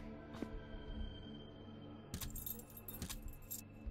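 Room keys are picked up in the Slenderina horror video game: short metallic jangles arrive in a few separate bursts against a quiet, humming game ambience.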